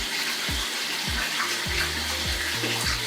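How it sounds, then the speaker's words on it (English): Running water from a shower or tap while washing curly hair, a steady dense rush with irregular low splashing and gurgling pulses as water hits the head and hands, close and continuous. "Now I'm gonna wash my hair 2 times."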